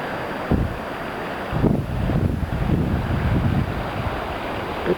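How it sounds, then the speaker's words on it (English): The Tuolumne River rushing past, a continuous broad roar of fast water heard outdoors, steady with occasional gusty swells, and no voices. "And there's the Tuolumne rushing towards us."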